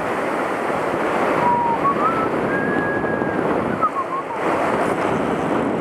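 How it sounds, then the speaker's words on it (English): Big ocean waves roll and break near a small boat, a loud, continuous rushing surf with strong wind buffeting the microphone throughout. "The big waves are coming."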